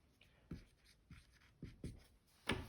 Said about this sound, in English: So I'm marking that with my red line